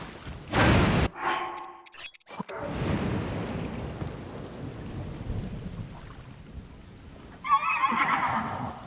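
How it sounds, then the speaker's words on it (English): A horse whinnies loudly near the start in The Legend of Zelda: Tears of the Kingdom, followed by a rumble of thunder and steady rain, with another brief whinny near the end. "Oh, it's a horse."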